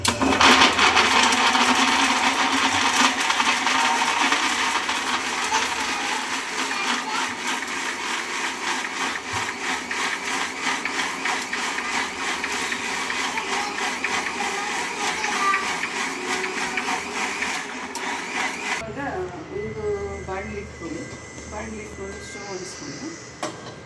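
A kitchen mixer grinding ingredients for potato chops, a loud steady whirring drone running for about nineteen seconds before cutting off abruptly, with a person talking over and after it.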